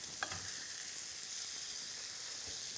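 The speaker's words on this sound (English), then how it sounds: "Now you turn over the oiled side into the pan, and it's got to make a noise." A burger patty, oiled side down, sizzles in a hot pan with a steady, quiet frying hiss and a few faint clicks, no voices.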